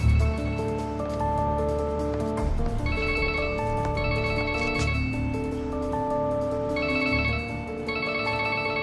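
A mobile phone rings from inside a dumpster, a steady, repeating electronic melody that plays on throughout without any voices.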